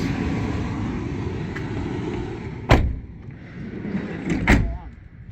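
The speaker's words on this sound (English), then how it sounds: "close the doors." Two solid thumps of car doors shutting a couple of seconds apart, over a steady blowing hum inside the vehicle.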